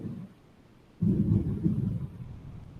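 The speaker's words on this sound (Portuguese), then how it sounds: "dá para ouvir os trovões" Thunder heard through a window, a low, muffled rumble that rises suddenly after a quiet moment and rolls on steadily, faint and distant, with no talk over it.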